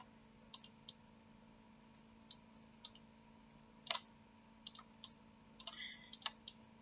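Computer mouse clicks while drawing in SketchUp, faint and close: sparse single clicks spread across a quiet background, with a small cluster of quick clicks toward the end.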